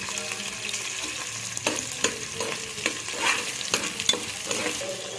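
Grated coconut frying in a pan with ginger for chicken biryani, a soft steady sizzle broken by repeated scraping stirs, close by with no talk.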